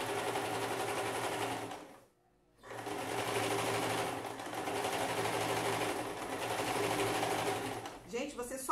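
A sewing machine runs steadily while stitching a Christmas dish towel trim with a Santa Claus motif, its motor whirring continuously, pausing briefly, then resuming close up with a voice speaking over it.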